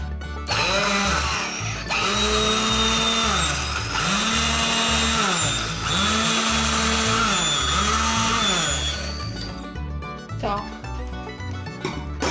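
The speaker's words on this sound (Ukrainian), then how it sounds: "Тепер буду блендерити." A loud blender motor whirs while blending banana ice cream, its pitch swelling and dipping in repeated cycles as it churns, then winds down near the end.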